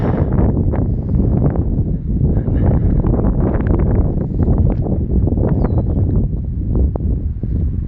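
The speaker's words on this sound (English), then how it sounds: "1 second, we got another strong gust of wind." Strong wind gusts batter the microphone outdoors in a loud, continuous, low rumbling roar that does not let up.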